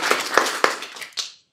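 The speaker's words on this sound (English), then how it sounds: "Let's give a round of applause for our newsletter folks" Applause from a meeting audience for the newsletter editors, a short thin patter of a few people clapping, brief and fading out quickly.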